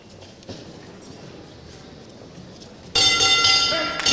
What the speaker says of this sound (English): There goes the bell to end round one.